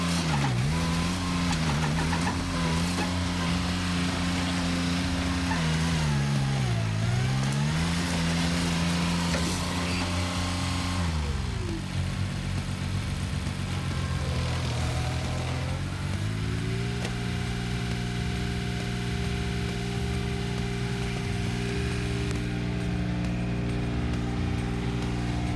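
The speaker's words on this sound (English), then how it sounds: "This mini excavator easily handles a tree by breaking the roots and loosening the soil around" A mini excavator with a rotary stump grinder works at tree stumps, its steady diesel engine droning with dips and surges under load and grinding, chewing noise over the top, continuous and fairly close.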